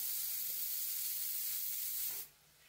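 A pan sizzling as potatoes go in for a Bengali-style egg curry: a steady, close hiss of frying that drops sharply to a faint murmur just before the end.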